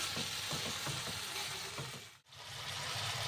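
Masala with sugar and salt sautéing in a pan for potato cauliflower curry, a dense, steady sizzle close up with light stirring scrapes that briefly drops out near the end.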